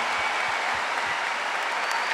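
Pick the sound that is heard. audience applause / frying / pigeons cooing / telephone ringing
audience applause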